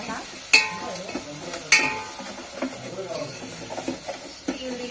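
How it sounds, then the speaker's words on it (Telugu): Tomato pieces frying with masala are stirred in a pan, with soft sizzling, spoon scrapes and a couple of sharp clinks against the metal, close up while a person talks over it. "టమాటా ముక్కలు మంచిగా ఫ్రై అయిపోవాలా."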